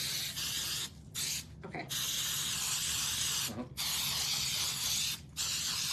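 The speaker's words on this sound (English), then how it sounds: "Use the hairspray. Just going wild with it this time." Hairspray hisses from an aerosol can in long, steady bursts with a few short pauses between them, close and loud, and a voice briefly speaks once.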